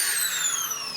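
An electric drill bores into a plastic DIY home composter container, a brief loud high whine with a slightly falling pitch, steady and close.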